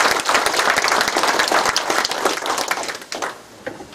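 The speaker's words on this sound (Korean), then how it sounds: "큰 박수 부탁드리겠습니다." An audience at a community meeting with the mayor in Hobeop-myeon applauds with dense, steady clapping that stays loud and near for about three seconds, then thins out toward the end.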